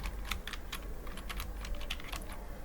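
Rapid typing on a laptop keyboard, a steady run of light plastic key clicks with uneven rhythm, close and fairly quiet, with no voices.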